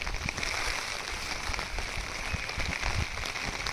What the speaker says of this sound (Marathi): खतरनाक पाऊस पडला आहे.